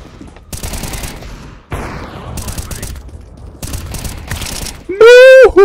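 Bursts of rapid automatic gunfire in a video game, several short loud volleys separated by brief gaps, ending with a sharp tonal electronic effect.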